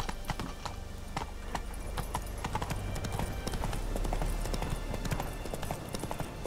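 A horse trots in The Witcher 3 video game, its hooves clip-clopping in a fast, steady rhythm that stays close and even throughout.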